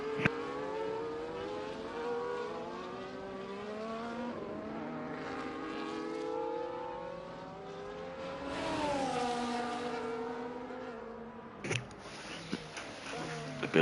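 Several race car engines in a sim racing game at the Singapore circuit wail and rise and fall through the gears, layered and sustained, with a sharp burst and faint clicks near the end.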